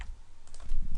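Quick keystrokes tap on a computer keyboard while jQuery code is being entered, a brief run of close clicks that grows denser and louder toward the end, with no talking.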